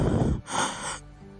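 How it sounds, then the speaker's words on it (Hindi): A person pants and gasps with long drawn breaths, close and fairly loud, a harsh exhale followed by a rasping inhale that trails off. "हाँफते लंबी सांस खींचते"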